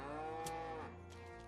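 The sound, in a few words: cows mooing in Farming Simulator 25 video game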